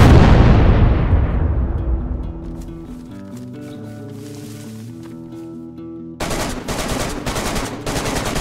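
Plastic explosives detonate with a loud, booming blast during a DayZ base raid; the roar decays over a few seconds under a sustained tonal ring, then a fresh burst of sharp, heavy reports hits near the end.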